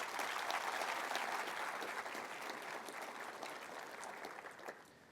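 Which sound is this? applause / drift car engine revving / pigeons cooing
applause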